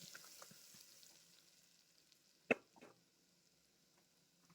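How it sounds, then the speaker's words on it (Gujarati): Ginger-garlic paste fries in a pan after a pinch of asafoetida for a Kathiyawadi green chickpea curry, a faint soft sizzle with one brief sharp clatter midway and a little spoon scraping. "એને સારી એવો ફ્રાય કરી લેશું"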